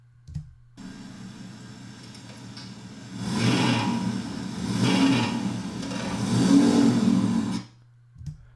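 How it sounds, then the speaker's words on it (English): A car idles nearby, then its engine swells and revs in several surging waves as it pulls up and drives off, the roar fading abruptly at the end. "The one we have here is of a car pulling up and then taking off."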